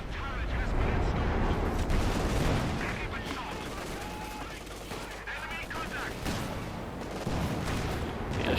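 Machine gun fire and battle din in the Company of Heroes 2 strategy game, including an MG42, with continuous dense rattling bursts and distant artillery rumble under a commentator's voice.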